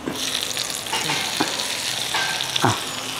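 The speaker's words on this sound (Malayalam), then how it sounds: "താളിച്ചൊക്കെ നമ്മുടെ കറിക്കായിട്ട് ഒഴിച്ചു കൊടുക്കും" Hot tempering poured into a potato and carrot curry makes a loud sizzle with several sharp crackling bursts and stirring scrapes, close up and without voices.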